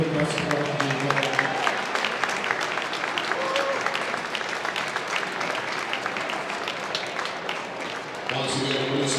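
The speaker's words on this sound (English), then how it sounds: "release some applause over Marco Zabon" Sustained audience applause at an event honouring Marco Zabon, dense steady clapping filling the space with some voices mixed in, easing slightly near the end before swelling again.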